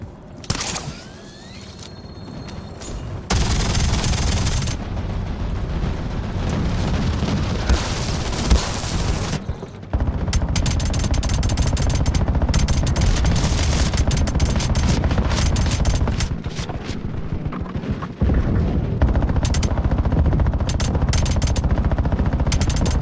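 Loud, continuous video game gunfire and explosions, a dense roar of automatic fire and booms that begins abruptly after a quieter opening and keeps going with brief drops.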